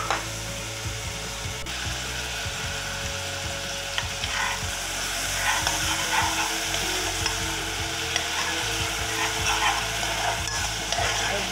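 Onion sizzles in hot lard with garlic in a pan, a steady close frying crackle with light clinks and scrapes of stirring throughout.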